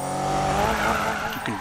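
A Toyota drifts in Need For Speed 2015 with a loud, sustained tire squeal over a revving engine whose pitch climbs steadily, heard close and continuous with no talk over it.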